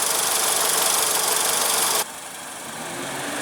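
A 2001 Honda Civic's 1.7 L four-cylinder engine running steadily with a hissy, broadband drone that drops abruptly to a quieter, lower-level idle partway through.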